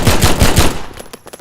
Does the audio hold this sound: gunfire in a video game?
yes